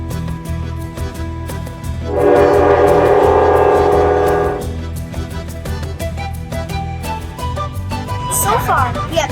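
A train in Peru rumbles steadily with a loud horn blast sounding for a couple of seconds, and a voice briefly speaks near the end.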